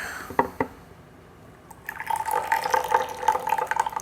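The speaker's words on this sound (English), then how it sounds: "I'm trying to keep the opening of the gaiwan here when I pour" Ripe Pu-erh tea, a 2018 Yunnan Sourcing cake, poured from a gaiwan into a cup without a strainer: a couple of small clinks, then a steady close trickle of liquid running for a couple of seconds.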